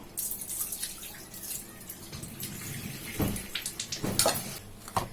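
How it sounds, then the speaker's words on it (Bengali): Water from boiled soybeans is poured off in a kitchen, a splashing, gurgling stream that rises and falls, with sharper splashes near the end. "সয়াবিনটা সিদ্ধ করে নিয়েছিলাম এটা জলটা ফেলে দেব"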